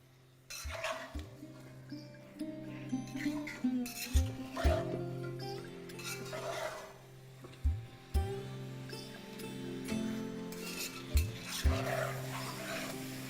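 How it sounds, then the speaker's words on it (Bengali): Chicken pieces stirred with a spatula in a pan over a medium flame, a series of scraping strokes and occasional metallic knocks at an uneven rhythm, close but fairly quiet, with a soft sizzle underneath. "এবার ফ্লেমটাকে মিডিয়াম করে এটাকে একবার ভালো করে মিশিয়ে নিন যতক্ষণ না চিকেনের কালারটা চেঞ্জ হচ্ছে।"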